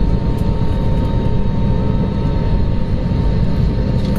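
Heard from inside the cabin, a passenger airliner on the runway at the start of a domestic Indian flight gives a steady, loud, broadband engine roar that holds evenly throughout.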